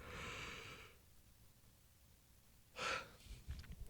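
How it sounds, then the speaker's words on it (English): A person yawns audibly: a long breathy exhale, then quiet, then a short sharp intake of breath near the end, close and fairly soft, no talking. "Sorry, I keep yawning."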